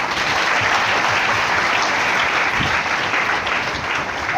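Steady, dense audience applause at a felicitation ceremony honouring a woman, loud and continuous throughout with no pauses.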